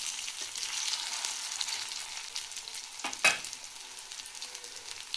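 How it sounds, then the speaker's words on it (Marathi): Mushroom tikki fry in a pan with a soft, steady sizzle, broken by a sharp clatter partway through as a patty is handled, then sizzling settles again; no talking. "टिक्की फ्राय करून घेऊयात."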